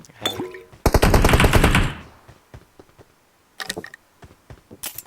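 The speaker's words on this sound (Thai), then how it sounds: "มันยิงกูหลายทางอย่างเลยวะ" Rapid automatic gunfire from PUBG Mobile, a loud sustained burst of shots followed by scattered single shots and a second short burst, close and dominant with no talk.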